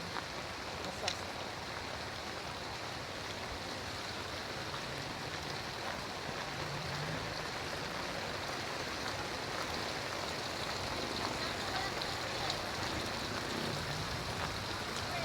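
Steady rain falls in a continuous broadband hiss, with an even wash of drops that holds the same level from start to finish and no clear voices over it.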